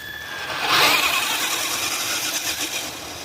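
An RC tow truck (WPL B16/MN45 2WD D12 build) motor spins up for a speed run, a high whining electric motor that rises sharply and then holds a buzzing drone fairly loud and close.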